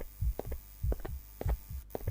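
A pounding heartbeat effect in a horror video game, with deep paired thumps repeating in a steady, fairly quick rhythm over a low hum, close and moderately loud, with no speech.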